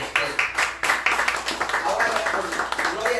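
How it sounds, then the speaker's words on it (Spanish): A church congregation claps together during a Bible study service, a dense, steady patter of many hands close by, with voices mixed in underneath. "Vamos a dar un fuerte aplauso a Dios."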